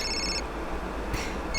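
A telephone rings in two short electronic bursts separated by a brief pause, fairly close and clear.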